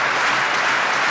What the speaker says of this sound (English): The crowd loving it. Listen to the noise.